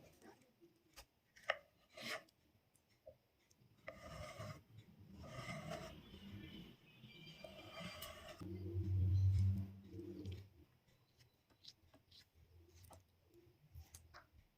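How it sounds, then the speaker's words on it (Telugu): A knife cuts a mango into pieces, giving a series of short scraping, rasping strokes and soft thuds on a board, fairly quiet and close, spaced irregularly with a longer rubbing stretch midway. "ఇప్పుడు ఈ మ్యాంగోని కట్ చేసుకోవాలి"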